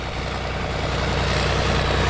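A farm tractor idles nearby, parked beside a grain setup, giving a steady, even low rumble with a fast, continuous throb that holds unchanged throughout.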